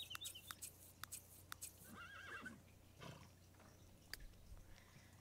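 A horse in The Sims 3 life-simulation game gives a short whinny partway through, with clip-clop hooves and other game sounds scattered around it; no one speaks over it.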